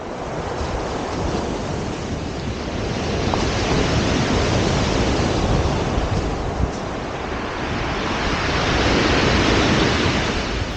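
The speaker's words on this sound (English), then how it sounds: "the waves are still reasonably high and crashing onto the shingle" Sea waves crash and wash onto the steep shingle of Chesil Beach at Ferrybridge, a loud, continuous roar that swells and eases, with wind buffeting the microphone and no talking.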